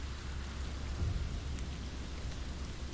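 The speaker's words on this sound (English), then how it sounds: "it's raining outside and storming" Rain falls steadily in the woods during a thunderstorm, a continuous hiss of drops with low rumbling thunder swelling briefly in the middle, no voices.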